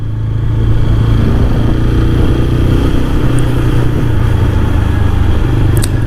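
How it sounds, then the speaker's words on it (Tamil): Close, loud exhaust note of a 2025 TVS Apache RTR 160 4V motorcycle: a steady, throaty mid-range engine rumble holding an even pitch throughout with no voices over it. "சவுண்டு பார்த்தீங்களா, எக்ஸாஸ்ட் நோட் புர்ன்னு ஒரு மாதிரி அந்த குடு சவுண்டு நல்லா கேட்குது."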